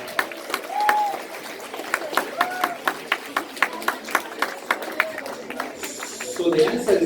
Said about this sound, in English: give him a round of applause because he remembered that verse